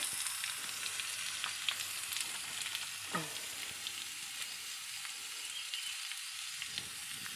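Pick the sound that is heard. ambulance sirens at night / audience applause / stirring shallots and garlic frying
stirring shallots and garlic frying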